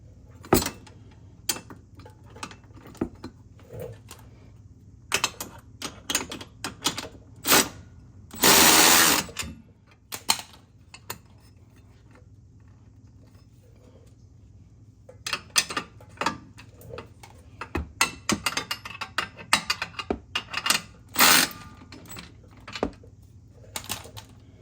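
A ratchet tightening bolts while mud flaps are installed on a Can-Am X3 MAX, producing quick clicking bursts in uneven runs, with a louder whirring burst partway through and pauses between.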